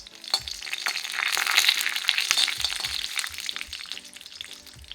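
Whole spices such as cinnamon and bay leaf dry-roasting in a kadhai, with a steady crackling sizzle and scattered clicks of stirring, near and fairly loud, and no talk.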